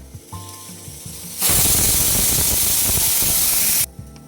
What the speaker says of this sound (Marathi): इथं आपण मिक्सरला हे फिरवून घेतलेलं आहे